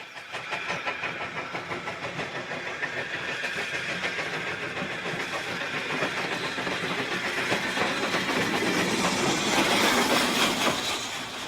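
Steam locomotive 45596 Bahamas at Loughborough's Up platform during a run-round, a continuous rolling rumble with rhythmic clatter and hiss that slowly builds in loudness, without any voices.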